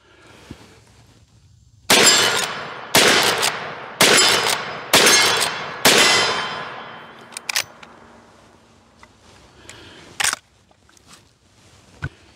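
Rossi .357 Magnum revolver firing five loud, sharp shots at roughly one-second intervals, each with a ringing decay, followed by scattered faint clicks and one more sharp report.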